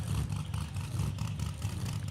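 A nostalgia nitro drag racing car does a burnout at a funny car nationals event, a rough, steady engine roar heard from a distance, fairly faint and continuous throughout.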